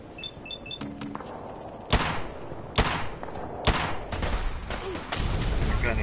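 Repeated gunfire from a gun in Fallout 4 Far Harbor, several loud sharp shots at irregular intervals over a game soundscape of music and effects.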